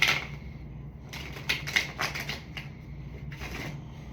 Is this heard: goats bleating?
no